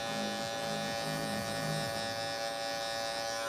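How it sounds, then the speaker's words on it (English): Electric hair clippers cutting a fade, giving a steady, close buzz with slight changes in pitch as the blade moves through hair. "We've done a lot of this with just kind of freehand clipper movement."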